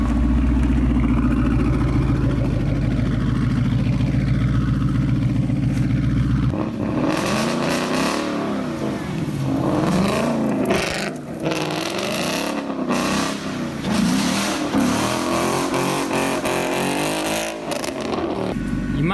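A Ford Mustang 5.0 V8 with an Armytrix exhaust revs hard while doing donuts, loud and close, first a steady roar then rising and falling surges with tire noise, with voices mixed in.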